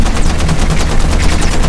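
Loud, rapid gunfire from a hostile in the video game Content Warning, a dense barrage of overlapping shots cracking steadily throughout with no pause.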